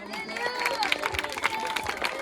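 Audience at a school cross-country event applauding a young runner, a ragged burst of clapping with some cheering, moderately near, under a voice speaking over it.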